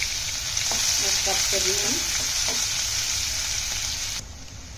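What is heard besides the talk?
chopped onions frying in hot oil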